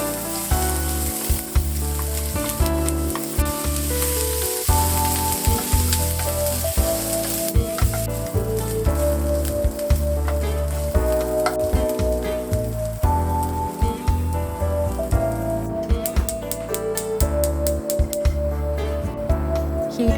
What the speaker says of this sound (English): Heat 1 tablespoon of oil over medium heat and saute the onions until cooked.